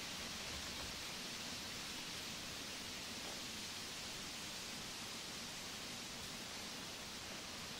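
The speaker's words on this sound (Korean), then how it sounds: "오, 비 오는 소리 좋네요." Rain in the side-scrolling video game INSIDE makes a faint, even hiss of steady downpour that continues unchanged with no talk over it.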